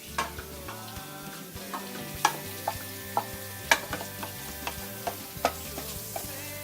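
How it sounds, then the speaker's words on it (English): Beef soup being stirred with a wooden ladle, giving irregular knocks and scrapes against the pot over a steady simmering sizzle, close and distinct with no talking. "It's a wooden ladle that allows you to have a better control of the stirring."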